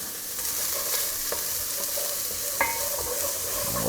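Chorizo and shallot sizzle steadily in a pan over moderate heat, a continuous close frying hiss with a few small stirring clicks and pops, no voices.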